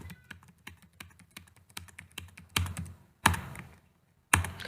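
A computer keyboard clicks with a steady run of close, distinct keystrokes while data is entered into a C++ array program, then a few louder, heavier key presses follow with short pauses between them.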